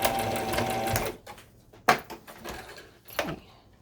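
A sewing machine stitches tape onto the body of a fabric mask, running steadily for about a second, then giving short back-stitch bursts and clicks, close and alone.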